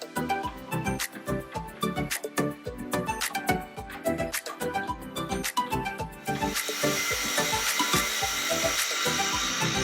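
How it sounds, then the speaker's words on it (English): A hole is drilled and tapped in a model steam boiler for a threaded safety valve, with irregular close mechanical scraping and clicking strokes, then a steadier whirring grind toward the end. "A hole is drilled and tapped, so a threaded safety valve can be screwed into the boiler."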